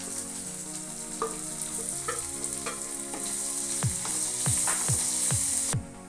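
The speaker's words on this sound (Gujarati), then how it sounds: "આદુ મરચાં લસણની પેસ્ટ સેજ ગરમ થઈ જાય પછી તેમાં ડુંગળી એડ કરીશું" Onions frying in a pan with hot ginger, chili and garlic paste and asafoetida for a spinach curry: a steady close sizzle broken by sharp spatula scrapes and taps as the mixture is stirred, with no talking.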